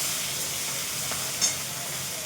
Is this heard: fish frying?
yes